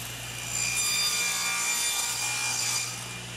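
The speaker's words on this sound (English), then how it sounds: "we're ready to cut the 10-inch pieces" A hand saw cuts through 10-inch wooden pieces for a raised panel box, giving a steady rasping stroke noise that swells for about three seconds, close and clear with no talking.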